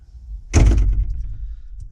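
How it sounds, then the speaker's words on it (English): A single heavy door slams shut at a garden pond site, one loud, close thud with a short rattle and decay, set in otherwise quiet surroundings. "Door's gonna slam round."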